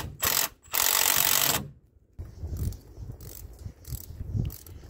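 A ratchet tightens bolts on a Ford Fiesta alternator with short bursts of rapid clicking close by, broken by pauses and lighter metallic knocks.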